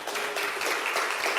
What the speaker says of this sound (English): A big round of applause for our helpers.